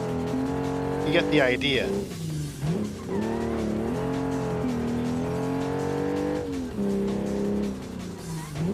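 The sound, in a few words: car spinning out on hill climb in video game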